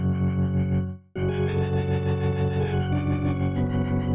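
A synthesizer patch in VPS Avenger 2 played through the Rotary Sim effect, a thick, distorted sustained chord with a swirling, warbling rotary-speaker modulation, cutting out briefly before resuming loud and steady with shifting tones.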